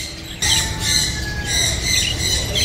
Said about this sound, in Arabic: ذني طيور الحب